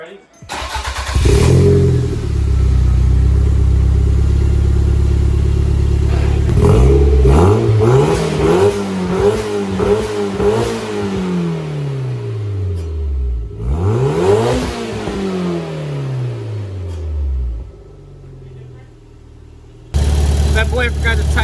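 Toyota MR2 fitted with a new full exhaust starts up and revs hard several times, loud close-up rises and falls with crackling decay between blips, while people talk nearby.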